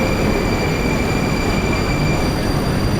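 A Moscow metro train rumbles steadily and loudly for the whole stretch: a dense, even roar of wheels and carriage noise with a faint high whine running over it, and no voices.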